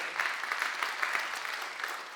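An audience at an adult non-formal education award ceremony claps steadily. The applause is soft and distant and runs evenly throughout without voices over it.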